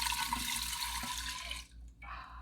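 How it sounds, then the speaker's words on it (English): Blueberry mead juice poured back into a container, a steady splashing liquid stream for most of the clip that stops briefly and then resumes, close and clear with no talk. "I'm gonna pour the juice back in."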